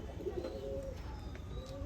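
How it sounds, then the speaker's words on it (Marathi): Flying pigeons of an imported UAE breed, kept in a loft in Nashik Road, coo softly in low, rolling murmurs, a few overlapping calls over faint background hum. "हे सगळे उडणारे कबूतर आहे त्यांचे"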